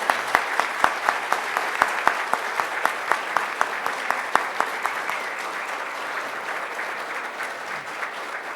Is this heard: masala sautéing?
no